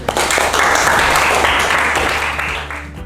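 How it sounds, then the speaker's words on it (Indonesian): Loud, sustained audience applause at a school class presentation on weather and climate, dense clapping steadily filling the room before thinning slightly at the end. "Terima tepuk tangan."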